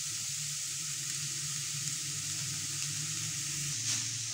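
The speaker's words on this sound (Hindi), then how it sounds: "1 मिनट के लिए इन सारी सब्जियों को चिकन के साथ अच्छी तरह से फ्राई कर लेंगे।" Vegetables and chicken frying in a pan, a steady, moderately quiet hiss of sizzling oil running evenly throughout, close by and without any talk.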